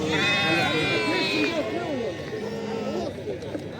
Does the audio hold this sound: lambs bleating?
yes